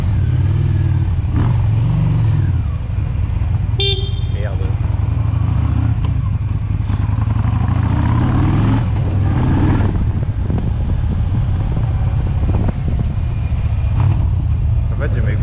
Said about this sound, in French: on entend l'admission qui est juste ici à droite du réservoir, on entend vachement les papillons